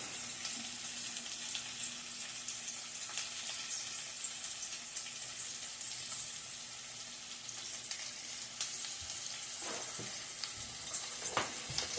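Lean ground turkey Salisbury steak patties fry in a pan with a steady, close sizzle and crackle, plus a few brief clinks and stirring sounds near the end.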